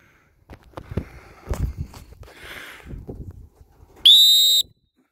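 A sharp, loud dog-training whistle blast near the end signals a retriever to sit, preceded by footsteps and rustling through brush.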